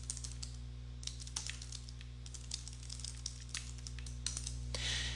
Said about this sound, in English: and now look what happens when I type